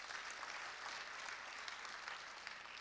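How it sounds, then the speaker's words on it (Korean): An audience applauds a student's presentation at a family-company fair, a dense, steady patter of many hands that stays soft and distant throughout. "좋은 발표해 준 지효근 학생에게 다시 한번 큰 박수 부탁드리겠습니다."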